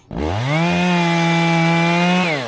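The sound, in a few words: Shindaiwa chainsaw cutting wood on a curve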